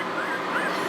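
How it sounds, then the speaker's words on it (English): Two-week-old puppies squeak and whimper in a close, continuous high-pitched chorus of short overlapping cries, fairly loud, with no talking. "that's one reason why they squeak more than older puppies"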